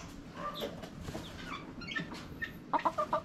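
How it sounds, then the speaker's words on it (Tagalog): A mother hen clucks near her chicks in a backyard flock, soft murmuring clucks at first, then a quick run of louder, sharper clucks near the end, with no one talking. "ito yung nanay ng mga sisiw"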